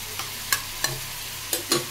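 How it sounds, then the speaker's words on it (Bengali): Fried paneer being stirred with sugar and garam masala in a pan: a spoon clinks and scrapes several times in an irregular rhythm over a faint, low sizzle, up close, with no talking. "একটু চিনি আর গরম মশলা গুঁড়ো অ্যাড করে দিলাম, আর পনিরটা, ভাজা পনিরটা অ্যাড করে দিলাম। ভালো করে মিক্স করে দিই।"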